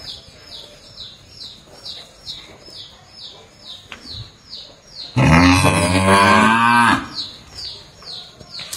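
Angus heifers on a cattle farm in Ben Tre give one long, loud, harmonic moo that stands out, with faint repeated bird chirps and quieter farm background before and after.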